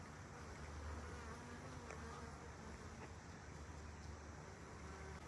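Steady insect buzzing fills the air, a dense continuous drone of bees among a flowering loquat tree, with a faint low rumble of distant traffic underneath.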